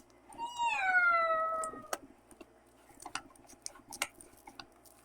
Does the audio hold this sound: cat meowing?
yes